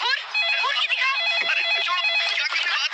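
A phone rings with a steady electronic warble, repeating tones running through the whole stretch, loud and close over a busy background.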